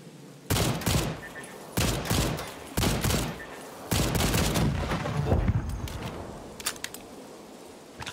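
Bursts of gunfire in the dinosaur-hunting shooter Second Extinction, several loud sustained volleys separated by short pauses, then a longer barrage that fades into scattered clicks, with no talking.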